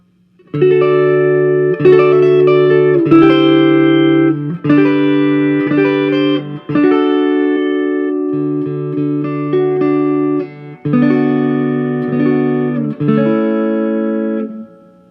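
A clean, warm electric guitar plays ringing chords and notes through a Fender Vibrolux tube amp, close and loud, with short pauses between phrases and no speech.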